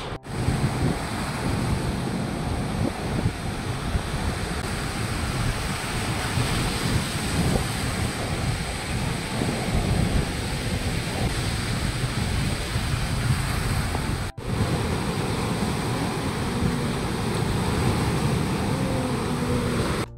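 Sea waves breaking on Mandarmani beach, a continuous loud roar of surf mixed with heavy wind buffeting the microphone, no talk.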